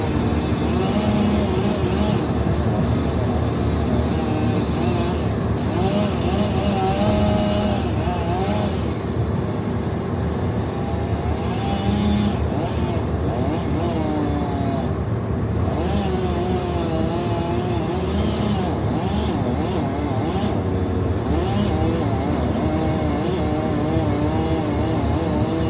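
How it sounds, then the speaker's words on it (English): A car drives down a road past a roadside logging site with hand fallers, a feller buncher and flaggers, its engine and tyre noise steady and fairly loud for the whole stretch, with machinery rumbling alongside and no voices. "Car coming down."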